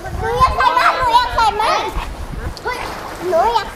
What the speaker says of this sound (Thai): มีคนเล่นน้ำเยอะเหมือนกันที่ทะเลอ่ะ